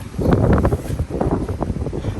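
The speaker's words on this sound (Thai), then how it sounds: "ลมแรงมาก" Gusts of Tropical Storm Debby batter a Florida garden, loud rushing wind buffeting the microphone in uneven surges, with rustling from nearby trees.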